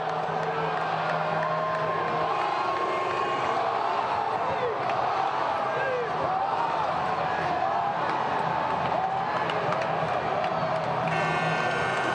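Crowd cheering along the streets of downtown Seattle at the Seahawks Super Bowl victory parade, a continuous distant roar of voices and whoops with broadcast commentators talking over it.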